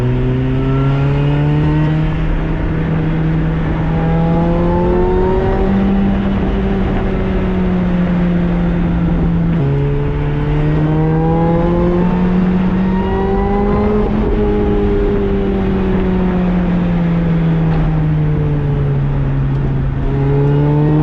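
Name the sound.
supercharged Lotus Exige engine revving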